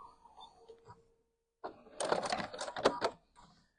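A sewing machine stitching a quilt-as-you-go seam joining two blocks, heard as a short quiet burst of rapid mechanical clatter after a faint voice and brief pause, then a few softer taps.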